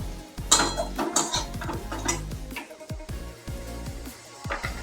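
Tomato with salt and turmeric being stir-fried in a pan, with a spoon clanking and scraping against the metal in irregular bursts over a low background hum.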